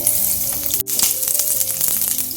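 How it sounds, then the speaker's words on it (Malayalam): A tablespoon of butter melts in a frying pan on the stove, sputtering loudly with dense, continuous crackles and pops, broken by one brief near-silent gap. "ഒരു ടേബിൾ സ്പൂൺ ബട്ടർ ഇട്ട് കൊടുക്കാം ബട്ടർ ഒന്ന് ഉരുക്കി വരട്ടെ"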